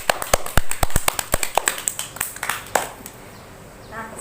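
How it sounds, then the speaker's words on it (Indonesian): Students applaud themselves at the end of a high school biology lesson on viruses, a short burst of sharp, separate claps close by that thins out and stops, leaving a quiet room. "kita berikan aplaus untuk diri kita masing-masing"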